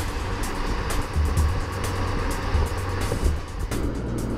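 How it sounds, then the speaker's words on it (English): A Porsche Macan S on the road gives a steady interior rush of wind and road noise with a low engine drone and occasional faint thumps, with no one talking. "There is more wind noise here than the Cayenne, though, and actually more wind noise than the Jeep,"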